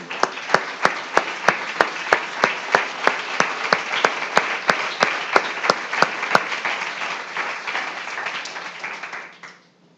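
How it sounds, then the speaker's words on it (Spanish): A church congregation applauds during a Spanish-language service, a loud, sustained roll of clapping overlaid with strong rhythmic unison beats that stop partway through, after which the applause fades out. "Démosle un aplauso al Señor."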